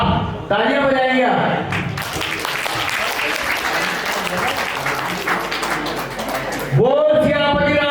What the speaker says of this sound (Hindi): आप तालियां बजाइएगा।